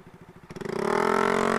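A small motor scooter fitted with a free-flow exhaust, first chugging unevenly at idle, then revving up into a loud, raspy, sustained drone with a rattling edge, close by and with no voices.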